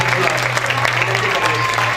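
An audience at a science olympiad prize distribution breaks into vigorous applause, a thick continuous wash of clapping with a low hum beneath it.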